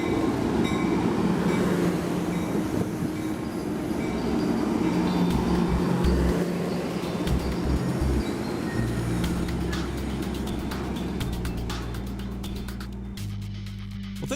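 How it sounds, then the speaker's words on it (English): A northbound Amtrak Surfliner led by an F40PH cab car rolls to a stop, loud and close, with rumbling wheels and a low engine drone, the bell clanging in the final seconds. "a northbound surfliner, its bell clanging as it rolls to a stop"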